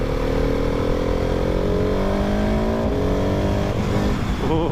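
Husqvarna 701 Supermoto single-cylinder motorcycle being ridden, its engine droning steadily and loud with rising pitch under acceleration, wind roar throughout, no talking.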